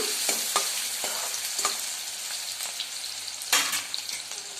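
Chopped onions frying in a pan for Marathi-style chicken masala gravy, a constant hiss of oil with several sharp scrapes and taps of a spatula stirring, close by and without talking.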